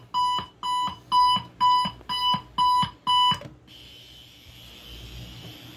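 A homemade alarm clock invention rings in seven loud, evenly spaced electronic bursts, each a short shrill tone, then stops and leaves a faint steady hiss.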